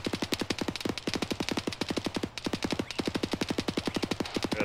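Rapid automatic gunfire from the military shooter ArmA 3, sustained bursts of evenly spaced shots with short pauses between them, moderately loud and with no talking.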